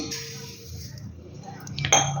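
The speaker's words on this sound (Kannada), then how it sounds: "ಒಂದು ಪಾತ್ರೆಗೆ ರವೆ ಆ್ಯಡ್ ಮಾಡ್ಕೊತಿದ್ದೀವಿ" Semolina poured into a metal vessel for rava idli, heard as soft rattling and scraping, then a bright metallic clink near the end, close and fairly quiet.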